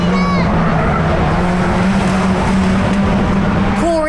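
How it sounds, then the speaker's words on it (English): Stock race car engine roaring loud and steady under power on a straight, rough and harsh throughout, with tonal engine whine and a sharper sweep near the end; popping and banging are not clearly separate from the drone. "popping and banging as I powered it down the straights"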